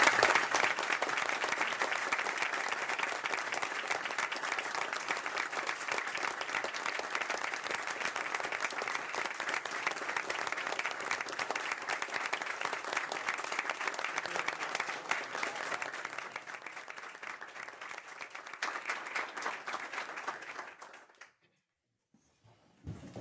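Sustained applause from an audience at a university system board of governors meeting honoring a departing member, a steady mass of clapping that thins near the end before stopping abruptly.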